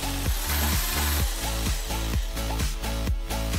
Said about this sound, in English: With an electric drill, put a hole right in the middle.